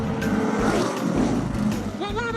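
Cars travelling fast along a road in Colorado, a continuous loud rush of engines and tyre noise with rising whines from passing vehicles near the end.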